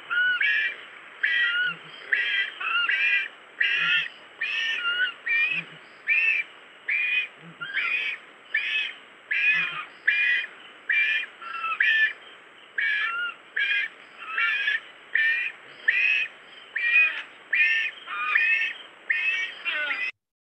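Southern ground-hornbills call in a steady, repeating rhythm, each pulse a deep booming note with harsh rasping overtones, regularly spaced and fairly loud over about twenty seconds, with no talking.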